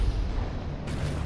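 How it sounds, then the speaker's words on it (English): Teapot cannon in Alice Madness Returns firing once, a loud close booming blast filling the short moment without any talk. "you want me to use the teapot cannon there?"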